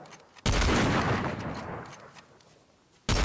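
A sudden loud burst of video game gunfire, a dense rattling volley that decays over a couple of seconds before another sharp burst cuts in at the end.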